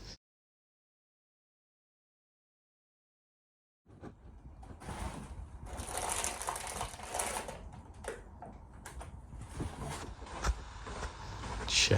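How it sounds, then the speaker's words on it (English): A stainless steel trowel sweeps across a fresh surface to flatten it, making scraping, rasping strokes that begin after a stretch of silence and run on continuously with uneven swells. "Now, after 10 minutes, it needs a good flatten. I'll use the Steely for this."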